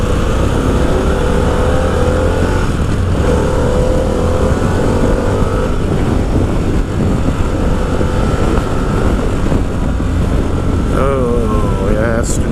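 A 2025 Harley-Davidson Pan America ST motorcycle revs in a low gear in sport mode, its engine note climbing and falling under heavy wind rush, loud and close throughout the ride.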